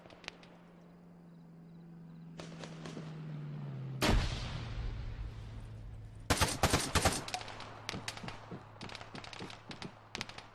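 Gunfire in the Arma 3 video game, King of the Hill mode, fired over a ledge: a few heavy booming shots, then a dense loud volley of sharp cracks followed by scattered quicker reports over a steady engine-like drone.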